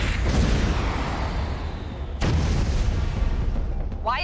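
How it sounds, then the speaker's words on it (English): Missile launcher firing at an airship in Homefront: The Revolution, heard as two loud, heavy booming blasts about two seconds apart, each rolling into a sustained rumble, with a short sharp burst at the end. "Activate the launcher and bring it down."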